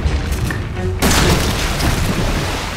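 Gunfire at a boss in Resident Evil 7, a single loud booming shot that bursts in abruptly and lingers as a dense roar to the end.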